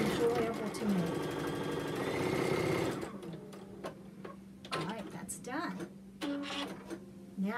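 A sewing machine stitching a fleece hat runs in a fast, steady mechanical whir for about three seconds, then stops, leaving a faint hum, scattered clicks and a voice talking.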